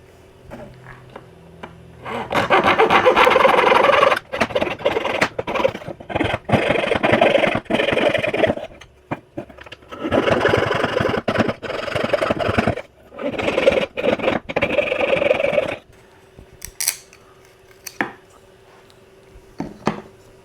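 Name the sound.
small hacksaw cutting tabs to free CNC-cut violin fingerboard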